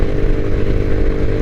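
An IceBear MadDog scooter engine cruising steadily at 40 mph and about 6,000 RPM on a wide suburban road near Trenton: a loud, continuous buzzing drone at an even pitch, with no voices.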